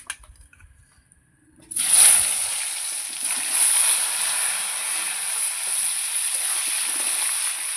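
Potatoes hit hot oil already tempered with dried red chillies, a sudden loud hiss that then settles into a steady, close, bright sizzle of frying.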